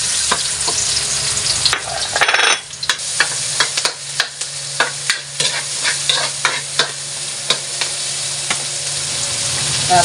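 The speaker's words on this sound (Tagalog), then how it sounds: "igigisa ko muna ang ating bawang at sibuyas" Garlic and onion sautéing in hot oil for a Filipino chopsuey, starting with a loud, dense sizzle, then a brief drop before rhythmic spatula strokes clack against the pan over continuous frying hiss.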